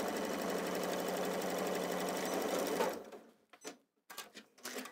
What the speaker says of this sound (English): I'm just going to sew four of these together in a row